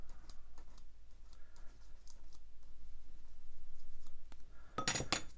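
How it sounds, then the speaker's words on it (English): Sprue nib being snipped from the gun barrel of a 1/35 scale Tamiya M4 Sherman plastic model kit, a cluster of crisp, close cutting clicks near the end after quiet handling noises. "I'll just remove that sprue nib there."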